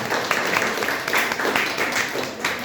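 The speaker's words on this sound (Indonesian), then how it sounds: "tepuk tangan dulu untuk kelompok campuran." A design class applauds a student presentation group in a classroom, brisk and fairly close clapping from a modest group, steady across the whole stretch with faint voices underneath.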